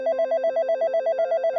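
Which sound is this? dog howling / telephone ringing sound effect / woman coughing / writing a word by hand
telephone ringing sound effect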